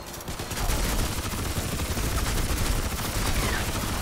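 An automated turret in Crysis 3 fires in a sustained, rapid burst of loud gunfire that starts after a brief lull and keeps rattling steadily to the end.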